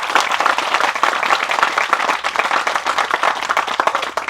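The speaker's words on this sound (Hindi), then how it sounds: "एक बार जोरदार तालियों से धन्यवाद अर्पित करते हैं" A hall audience claps enthusiastically to thank a speaker at a talk, fairly loud and sustained with a ragged texture of many individual hands and no speech.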